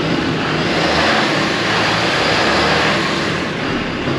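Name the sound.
diesel engine running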